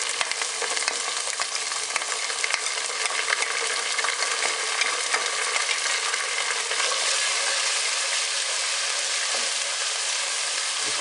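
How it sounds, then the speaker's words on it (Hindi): Garlic-ginger paste fries with lightly browned onions in a pan: a loud, continuous, close hissing sizzle with occasional scraping from stirring. "तो अभी इसके अंदर मैं ऐड करता हूँ पेस्ट लहसुन अदरक का।"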